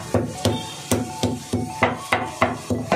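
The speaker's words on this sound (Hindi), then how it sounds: "एक एक मीट का पीस को लेकर इस तरीके से आपको यूं करके पीटना है।" Pieces of meat for pasande korma being pounded flat, a steady series of about ten dull, close thuds in an even rhythm, with no talking over them.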